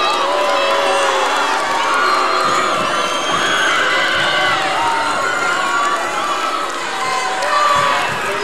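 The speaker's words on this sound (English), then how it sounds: "some fans out of the crowd who are coming out cheering" Crowd cheering at a 1998 high school boys' basketball game, loud sustained shouting and whooping from many fans in a gym, rising and falling continuously with some high-pitched yells.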